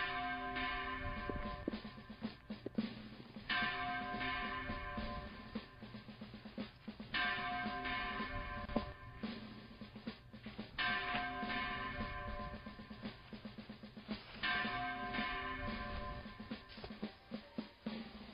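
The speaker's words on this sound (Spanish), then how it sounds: "cuando suenen las 5 campanadas de la catedral" Cathedral bells toll five slow, evenly spaced strokes, each ringing out and decaying before the next, loud and alone with no voices.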